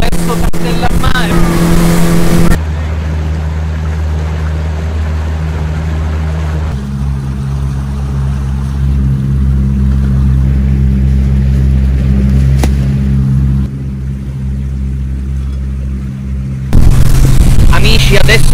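A loud, steady motorboat engine drones throughout on the sea off Sicily near Castellammare, with rushing water noise and a few abrupt shifts in the engine's tone.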